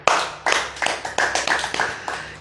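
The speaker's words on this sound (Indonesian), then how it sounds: "Tepuk tangan" Scattered audience clapping at a religious talk, a few loose, uneven bursts of hand claps with short gaps between them, close and fairly sharp, no voices over them.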